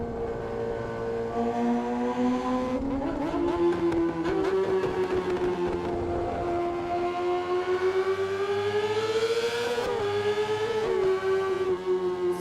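A 600cc four-stroke sport motorcycle engine revving hard and steadily, its tone rising and falling in long sweeping pulls like a wailing siren, loud and close throughout with no talking.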